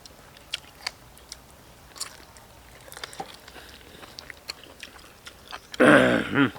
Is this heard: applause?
no